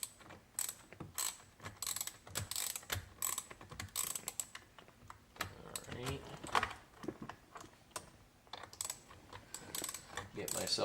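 Ratchet socket wrench clicking in short bursts while a carbon fiber steering wheel is fitted to a 2020-up Chevrolet Corvette C8, close and moderately loud, with pauses and some handling noise between runs of clicks.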